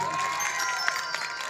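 An audience at a Chhattisgarhi stage show claps and cheers, a dense, even stream of applause with a few shouts rising above it, sustained and moderately close.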